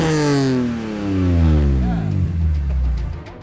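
A car fitted with a BMW M3 engine revs up close, its pitch sweeping up then falling back over a few seconds, a loud throaty rise and settle with a voice briefly heard over it.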